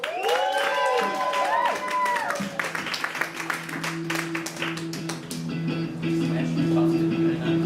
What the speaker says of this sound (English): give a big round of applause for Danny Warbuck